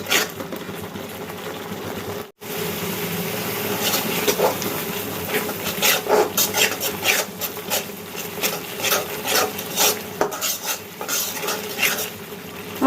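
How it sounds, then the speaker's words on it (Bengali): Spices with chili powder being stir-fried in a pan for an eggplant and hilsa fish curry, giving a steady sizzle broken by frequent scraping and rubbing strokes of a spatula, with one brief dropout near the start. "এবার ভালো করে কষিয়ে নেব।"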